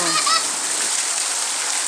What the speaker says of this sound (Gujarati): બોટાદ જિલ્લાના રાણપુર તાલુકાના વેજલ ગામે અતિ ભારે વરસાદ પડી રહ્યો છે